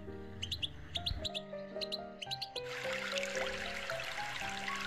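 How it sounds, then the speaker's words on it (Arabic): Sparrows chirp on branches with repeated short high tweets over a bright, layered background of music-like tones, with a soft sense of running water from a small stream underneath. "والعصافير تزقزق على الأغصان وفي السماء"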